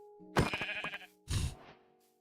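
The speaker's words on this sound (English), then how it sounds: "Let's get sheep over here too," Sheep bleating in the video game Minecraft, with two close, clear bleats in quick succession, the first longer and wavering and the second shorter, over a low steady game hum.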